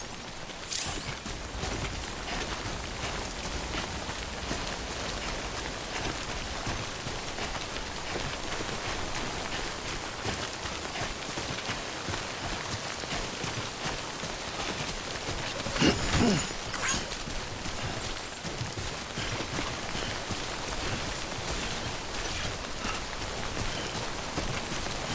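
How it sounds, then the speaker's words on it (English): Steady timefall rain in the video game Death Stranding, a soft, even patter of drops on surfaces that carries on without pause, with a brief louder splash or thud partway through. "Don't stay out in the rain any longer than you have to."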